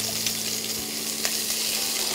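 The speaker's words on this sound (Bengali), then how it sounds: "তারপরে দিচ্ছি রেড বেল পেপার" Chopped red bell pepper added to a hot frying pan gives a steady, bright sizzle with a faint hum underneath and one or two soft taps. No voices.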